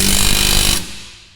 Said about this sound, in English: using the ball joint press, we've got the bushing out of the leaf eyelet there